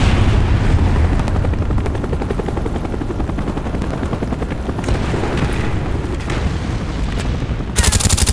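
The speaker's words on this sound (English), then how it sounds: "Cobra ready for deployment. Friendly Cobra inbound." In a video game battle, a Cobra attack helicopter's rotor thumps in a dense rhythmic beat, loud and near, layered with rapid gunfire and booming explosions throughout.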